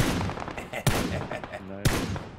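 Two sharp single gunshots in the video game PUBG, spaced about a second apart and fairly close, set against a busy background of other game sounds.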